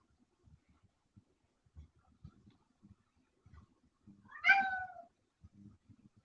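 A pet cat gives a single clear, drawn-out meow in a quiet room, standing out against faint soft thumps and rustles.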